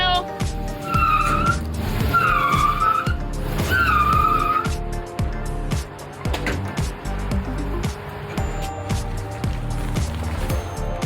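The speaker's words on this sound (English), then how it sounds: "reattached the chain to Ginger's truck for the next pull" A truck drags a steel shipping container by a chain over logs on a hillside, with a steady engine drone under loud, wavering metallic squeals and grinding scrapes that rise and fall in bursts.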